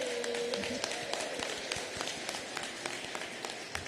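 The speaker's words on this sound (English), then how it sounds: "Can everybody join me in giving a round of applause for BCYF Commissioner Marta Rivera?" Round of applause for a city commissioner at an outdoor swim safety event, a light, scattered clapping from a modest crowd, fairly faint and steady throughout.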